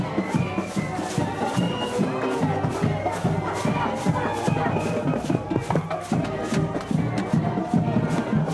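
Crowd of tailgaters outdoors, mingled chatter and occasional shouts with repeated percussive thumps, a busy steady din at close to moderate distance.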